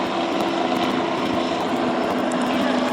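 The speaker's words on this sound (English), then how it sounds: "And there is the helicopter." A helicopter passes over an active police scene with armed SWAT officers, giving a steady, loud rotor and engine drone that holds throughout without a break and with no talk over it.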